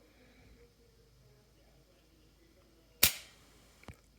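Dry-fire trigger clicks from a double-action pistol on a tabletop, one sharp click followed by a second fainter click under a second later, with quiet room noise and soft speech before.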